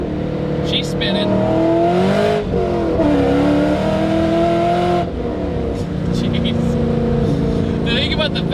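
A C5 Corvette Z06 V8 spins its tires, its loud engine rising and falling in pitch close by, with the tires sounding rough and textured at the same time.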